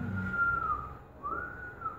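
A person whistles two sustained, gliding notes near the mic, imitating the whistle of blowing through a small tube onto grill charcoal, with a faint low rumble underneath.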